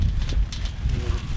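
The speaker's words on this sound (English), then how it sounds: "It's windy today, which is not helping at all." Gusty outdoor wind buffets the microphone in steady low rumbling bursts, loud and close, with no voices over it.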